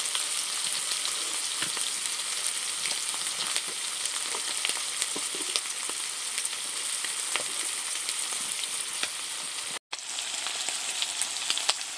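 Shrimp fry in a pan with salt and turmeric, giving a continuous close crackling sizzle with light spattering pops and a brief cut near the end, no voices.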